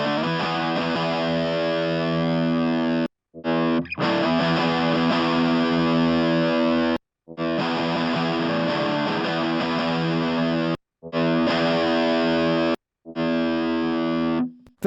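Distorted rhythm electric guitar run through a Neve 1073 preamp plugin, chugging chords played loud and continuous with a few short abrupt gaps, dense and saturated with no voices.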